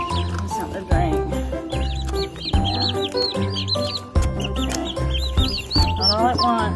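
Young chickens and turkeys in a chicken tractor cluck and peep busily at close range, many overlapping high calls over a constant low hum.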